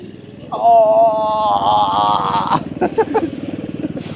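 A small military-style mini Jeep revving hard as it climbs an incline, a strained whining drone that rises then breaks into choppy bursts, loud and close, with voices calling out over it.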